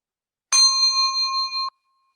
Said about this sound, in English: I'm going to be ringing a bell